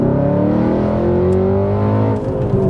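Audi B7 RS4 V8 engine and exhaust revving loudly and steadily up close, a continuous throaty drone with a small dip near the end and no clear separate pops.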